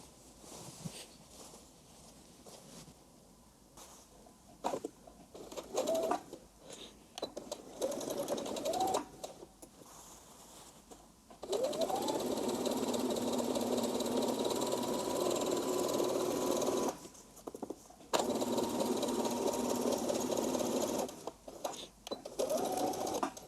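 A sewing machine stitches dress lining to the main dress piece, with short bursts of whirring at first, then long steady runs of rapid mechanical stitching, close and clear, separated by brief pauses.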